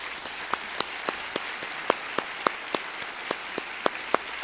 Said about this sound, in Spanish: un aplauso especial para todos los que reciben estas palmas magisteriales.